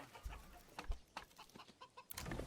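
Chickens at a coop in the game Manor Lords, faint scattered clucks and short bursts spread across a quiet background, soft and somewhat distant.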